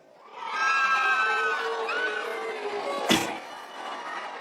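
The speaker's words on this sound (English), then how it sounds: "give me a cheer" Live comedy-show crowd of women cheering and whooping loudly in a sustained burst, a sharp slam or clap cutting through near the end as the din carries on.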